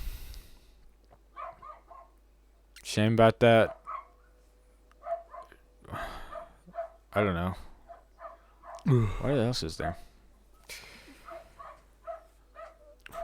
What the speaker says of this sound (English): He just barks at everything.